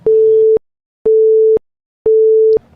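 A phone busy tone sounds with no signal: three loud, evenly spaced half-second beeps at a single steady pitch, separated by silence.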